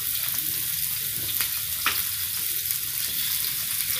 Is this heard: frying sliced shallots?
yes